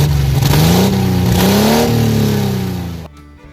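An odd-fire Dauntless V6 in a 1969 Jeepster Commando revs loudly and close, its pitch climbing and falling twice before winding down and cutting off abruptly near the end.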